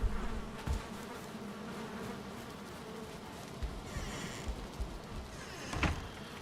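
Bees hum around a beehive in the Valheim video game, a soft continuous buzzing at low level with a few faint thumps and clicks scattered through it.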